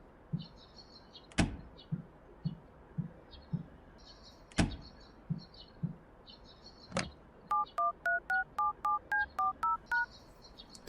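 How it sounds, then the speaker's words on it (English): A telephone is dialed in the video game Paranoiac Remake: a series of evenly spaced touch-tone beeps follows several sharp clicks and knocks, all clear and alone. "Time to make a phone call,"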